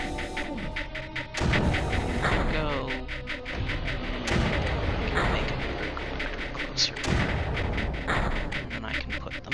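Mortar fire in the strategy video game Creeper World: a handful of sharp booming launches spaced a few seconds apart over a steady game soundscape, with someone talking throughout.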